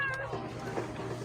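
A person imitating a cat's meow during a family meal, one drawn-out, voiced mew close to the listener with quiet room noise behind it.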